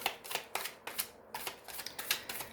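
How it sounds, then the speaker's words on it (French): Tarot cards slid and laid one over another on a table during a general reading, a run of soft, quick papery swishes and taps close by with no talk. "Je vais juste recouvrir la carte de la séparation"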